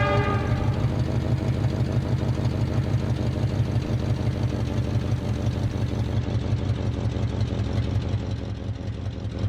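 A train in the Soviet-era city-building game Workers & Resources rumbles steadily along, a loud continuous mechanical drone with a rhythmic pulsing beat and no speech.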